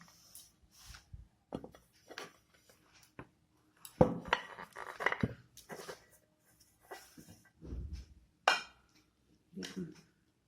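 A soft cake is turned out of its bowl after steaming, with scattered clinks and knocks of dishes and utensils, plus quiet handling sounds and a few brief voice sounds between them.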